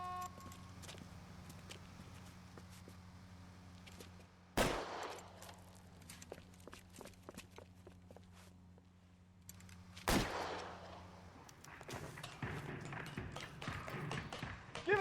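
Gunfire rings out during an L.A. Noire rooftop chase after a masked armed suspect: scattered sharp shots and clicks throughout, with two very loud close blasts standing out, plus bursts of rapid fire near the end.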